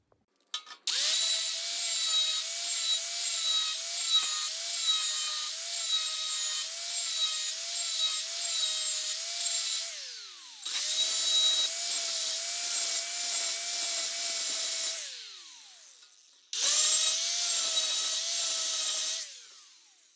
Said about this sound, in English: So I'm going to use a flat disc sanding disc on my right angle grinder.